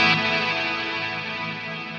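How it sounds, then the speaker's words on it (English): Electric guitar played through a Fractal Audio digital mono delay with reverb, a single sustained chord whose repeats carry out and slowly decay, heard alone. "you can hear the delays carry out"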